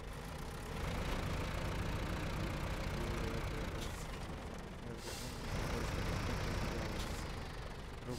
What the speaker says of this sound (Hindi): हम लेके चल जाते हैं अपना ट्रैक्टर